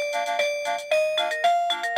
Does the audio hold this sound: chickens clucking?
no